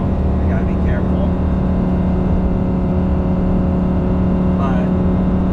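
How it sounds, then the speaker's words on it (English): Lamborghini Gallardo Italian V10 roaring steadily as the car drives on a road, a continuous loud engine drone throughout with brief faint voice traces. "the RPM of the engine, the roar, is just incredible. It doesn't sound like an American V8, it sounds like an Italian V10"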